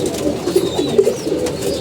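Pigeons coo softly and continuously in a loft, several low murmuring calls overlapping at close range, with a few faint higher chirps above them.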